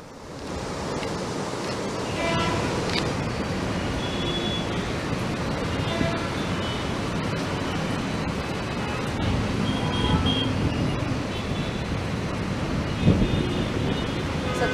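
Floodwater rushing at Himayat Sagar reservoir with four gates raised, a dense, continuous roar of surging water that stays steady and loud throughout, with no clear voices.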